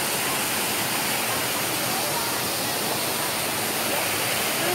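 Steady, loud broadband roar of the waterfall at Little Hawaii Trail Falls in Hong Kong, heard close up as continuous rushing white-noise-like water with no breaks.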